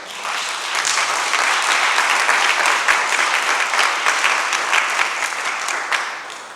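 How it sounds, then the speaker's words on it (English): Audience applause at a community gathering, a dense sustained round of clapping from a large crowd, steady and loud throughout with no talk over it. "Let's give a round of applause to the brothers who put this fabulous event together."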